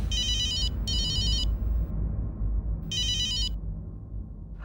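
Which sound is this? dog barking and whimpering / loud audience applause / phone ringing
phone ringing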